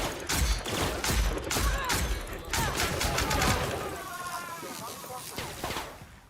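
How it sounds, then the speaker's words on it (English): Rapid gunfire in The Outer Worlds video game, a close, loud string of shots in quick bursts during the first few seconds, easing into mechanical clatter, with a voice talking over it. "Who's shooting me?"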